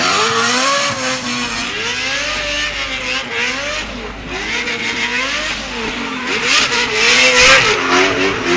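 A NASCAR V8 drift car engine revs hard and high near the mic, a loud, continuous screaming note that rises and falls in repeated sweeps.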